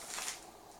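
Soft crinkling and rustling of a plastic bag holding parts, discs and a manual as it is handled, faint and close, with a brief louder rustle early on and no talking.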